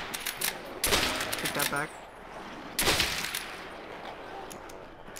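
Sniper rifle shots in Call of Duty: World at War, two loud sharp cracks a couple of seconds apart with ringing tails and smaller shots between, while someone talks.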